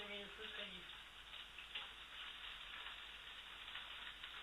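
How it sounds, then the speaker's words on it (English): Steady hissing sizzle of salted chicken pieces frying in a paella pan over high heat, continuous and close, with a short bit of talk at the very beginning. "it looks like it's frying well"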